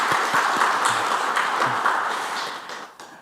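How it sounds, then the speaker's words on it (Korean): Church congregation clapping together to welcome a newcomer during a Sunday worship service, a steady wash of applause that gradually tapers off, with a few scattered individual claps standing out. "환영의 박수 하겠습니다."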